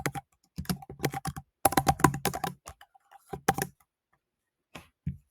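Keys clatter on a Mac computer keyboard in quick close bursts of typing with brief pauses between them, and a couple of isolated taps at the end.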